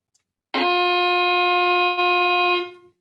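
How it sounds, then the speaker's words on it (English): A single sustained violin note, bright and rich in overtones, starts abruptly, holds steadily at even loudness for about two seconds, then fades out, heard alone without talk. "And a violin."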